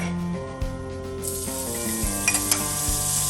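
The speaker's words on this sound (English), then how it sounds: "So we're mixing wild boar and pork sausage. Let's cook the meat." Wild boar and pork sausage meat sizzles steadily in a pan, with a continuous hiss and a few soft scraping stirs, close and fairly loud, with no talking.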